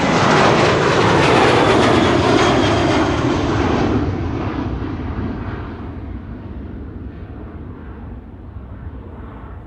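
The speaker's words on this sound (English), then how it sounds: "Delta A330 to Detroit" A Delta Airbus A330 wide-body departs Amsterdam Schiphol for Detroit, with a loud, close jet engine roar that gradually fades as the aircraft moves away.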